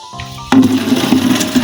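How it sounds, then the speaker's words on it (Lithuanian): Water gushes noisily into garden watering cans at a countryside yard, a steady loud splashing pour that starts abruptly after a quieter moment and continues without pause. "Pilam į laistytuvus vandenį."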